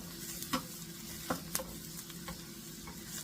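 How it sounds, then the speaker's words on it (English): Chicken alfredo with sundried tomatoes and bacon sautés quietly in a pan, a faint, even sizzle punctuated by a few light utensil taps. "While that is sauteing a little bit"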